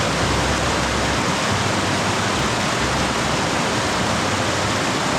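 Loud, steady rush of a mountain stream at a river crossing, a dense broadband roar of fast water that fills the whole stretch without pause.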